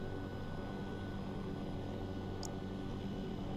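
A helicopter in the game Squad drones steadily with a dense, rumbling rotor and engine wash, loud and unbroken throughout, with only a brief chirp near the end and no clear crash impact.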